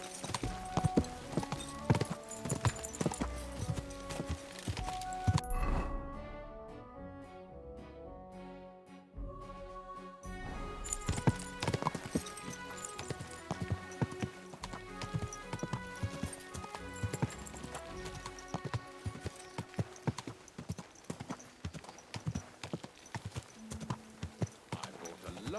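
Rhythmic hoof clip-clops of a horse trotting in the video game Kingdom Come: Deliverance 2, steady and close, with a brief pause midway before the hoofbeats resume over light background music.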